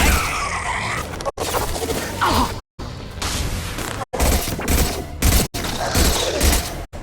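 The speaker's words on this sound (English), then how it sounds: "Firing a high-impact shot!" High-impact weapon fire in the sci-fi shooter Mass Effect 2: loud, dense bursts of booming shots and mechanical crashes, broken by several abrupt cuts to silence, close and forceful throughout.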